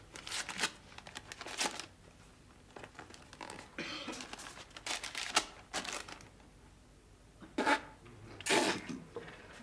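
An envelope is handled and torn open: paper rustles and crinkles in short, close bursts with quiet gaps, and sharper ripping sounds come near the end.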